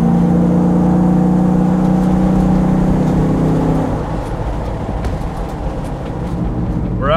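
A 1974 Ford Bronco Eruption Green Midnight Edition cruising along Pensacola Beach, a steady loud engine drone with road and wind roar, easing off partway through and then settling into a lower, continuous hum.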